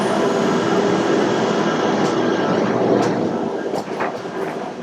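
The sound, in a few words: Disney Skyliner gondola taking off from station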